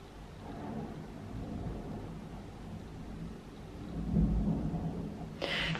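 Thunder rumbles through a rainy storm, a long low roll building and swelling louder near the end amid steady rain noise, with no talking.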